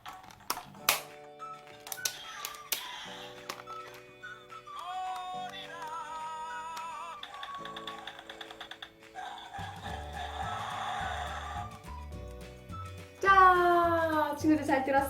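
Electronic button sounds from a Japanese-edition Power Rangers Animal Force DX Animal Changer toy: a run of beeps, chimes and short synthesized jingles and voice effects, with a pulsing bass beat near the end, loud and close.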